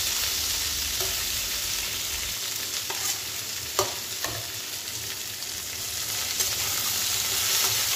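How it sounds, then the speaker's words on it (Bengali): Vegetables for shukto fry in very little oil with a steady sizzle, broken by a few scraping stirs and light knocks of a spoon against the pan. "আমি সবজিগুলোকে একটু ভালো মতো ভেজে নিলাম। খুব কম তেল দিয়েছি"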